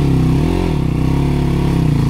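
A motorcycle engine runs loud and close on a slippery off-road jungle trail, holding a steady, throbbing mid-pitched drone that wavers slightly in pitch.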